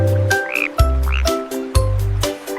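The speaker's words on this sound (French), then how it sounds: "Une drôle de grenouille saute sur une bûche." Frog croaks sound in a children's song about a funny frog jumping on a log, with three deep, loud, rhythmic croaking bursts alternating with bright whistly melodic tones.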